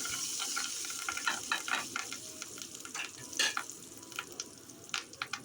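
Ground ivy gourd chutney cooks in a pan on a low flame. A gentle sizzle runs throughout under repeated scraping and tapping of a spoon as it is stirred, fairly close, with no voices.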